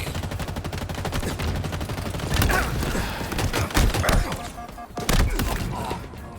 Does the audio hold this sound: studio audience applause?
no